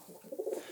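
Homing racing pigeons in a loft give a brief, soft, low courting coo, close by and very quiet.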